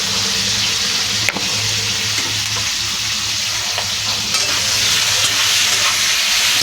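Potatoes and chilli with turmeric fry in a pan, giving a steady, loud, close sizzle throughout with a faint clink of stirring near the start.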